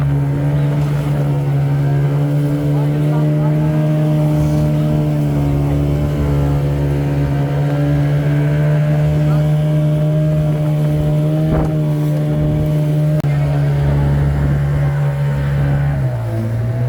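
A boat engine running on the water near the coast at Mullivaikkal, a loud, steady droning hum throughout with a slight drop in pitch near the end, and no talk.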